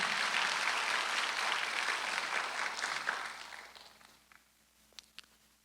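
A church congregation at a Sunday worship service breaks into loud, dense applause that fades out over a few seconds, followed by a couple of faint isolated claps.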